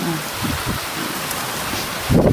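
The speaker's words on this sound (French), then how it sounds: "Ah, il y a beaucoup de pluie." Heavy rain pours down during a violent, windy thunderstorm in Montoison, France, in a steady, broad hiss, with a few low thumps and a louder rumbling surge near the end.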